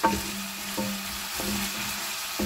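Chicken pieces frying in their own rendered fat with no added oil, a steady crackling sizzle with faint stirring scrapes, close and continuous, no voices.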